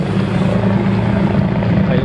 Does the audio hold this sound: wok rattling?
no